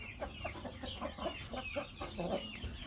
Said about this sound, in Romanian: 3 găini și un cocoș.